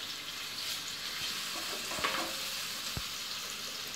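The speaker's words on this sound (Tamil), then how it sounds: "வெங்காயம் ரொம்ப வதங்க தேவையில்லை, ஓரளவுக்கு வந்து இந்த அளவுக்கு வதங்கினா போதும்." Lightly salted onions sauté in a pan for capsicum rice, giving a steady moderate sizzle with a couple of soft stirring taps partway through.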